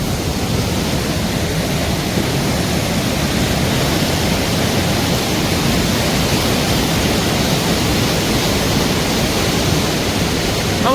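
A Himalayan mountain river rushes under a bridge along the trail to Lapchi, a dense, unbroken roar of water that stays loud and steady for the whole stretch with no voices.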